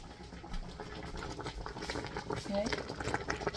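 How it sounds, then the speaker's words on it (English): A pot of cabbage boiling on the stove for vegan stuffed cabbage, giving a steady bubbling, simmering wash that holds close and fairly loud through the whole clip. "Cabbage is boiling."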